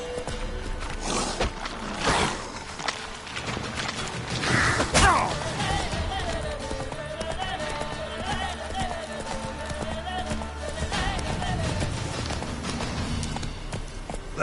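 In a video game, the horse Roach gallops with steady clip-clop hoofbeats, heard close and under a voice and game sounds.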